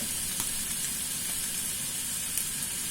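Half-cooked noodles going into a hot wok of chicken, giving a steady close sizzle and frying hiss with faint stirring clicks and no talk.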